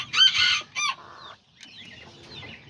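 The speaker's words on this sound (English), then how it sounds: "I also got him, my little white rooster" A small white rooster, an Aztecas bird, gives a few sharp clucks and a short crow-like call up close, followed by softer faint clucking and quiet background.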